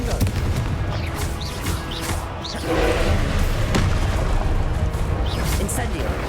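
Fiery Confringo spell blasts go off in Hogwarts Legacy combat as dull booms and thuds, embedded in a loud, continuous wash of battle effects and music.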